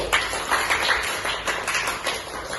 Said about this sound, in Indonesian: Tepuk tangan untuk Nuri